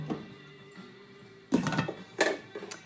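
A lid goes onto a pot of vegan lentil soup with a few clattering metallic knocks and scrapes, close by, after a quiet stretch of faint kitchen background.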